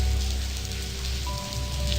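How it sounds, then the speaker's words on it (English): Slow-falling rain in the adventure game Blackwell Convergence makes a steady, dense hiss with a low background hum throughout. "This is the slowest falling rain in the whole world,"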